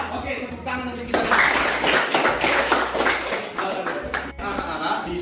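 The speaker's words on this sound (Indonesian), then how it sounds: "tepuk tangan untuk kita" A classroom of pupils claps hands together in a teacher-led clapping routine, a dense burst of rapid claps filling most of the clip, with a teacher's voice heard around it.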